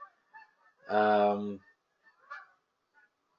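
A Canada goose gives one loud, close honk lasting about half a second, followed by a couple of fainter short calls, with a brief spoken hesitation nearby.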